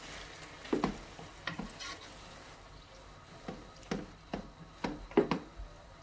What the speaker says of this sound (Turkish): Bir karıştırayım bunları.